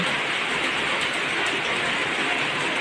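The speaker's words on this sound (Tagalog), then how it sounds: "lumalakas na naman yung ulan at medyo may kasamang hangin" Steady, dense downpour of heavy rain driven by wind in the Philippines in December, with a broad rushing hiss that never lets up.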